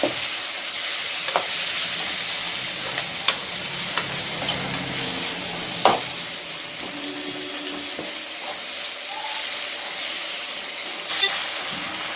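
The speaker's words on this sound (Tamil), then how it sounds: "தக்காளி வதங்கிடுச்சு ஃப்ரெண்ட்ஸ்." Tomatoes and onions sauté in a pan for Tamil-style potato kurma, a soft, steady sizzle with occasional light scrapes and taps of a spatula against the pan, and no talking.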